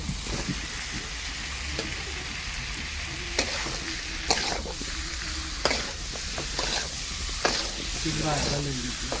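Chicken and potato pieces fry in a pan for a Bengali-style chicken dish, a loud, dense, continuous sizzle with occasional sharper pops and utensil knocks.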